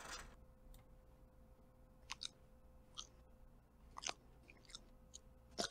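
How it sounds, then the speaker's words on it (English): Quiet, close chewing and munching of food, with soft crunchy bites scattered irregularly over a faint background hum. "are you just munching right now? Is that what I'm hearing?"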